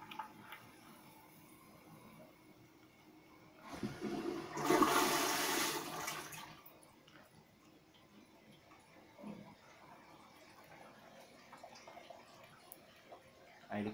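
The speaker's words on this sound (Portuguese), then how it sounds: "ele dá descarga." An automatic Japanese toilet flushes after its button is pressed, a loud, close rush of water lasting about three seconds, then quieter background sounds.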